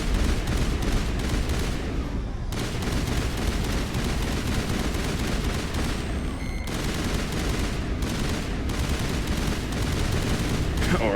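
Assault rifle bursts from Mass Effect fighting Geth, rapid dense gunfire crackling nearly nonstop with brief pauses between volleys, loud and close.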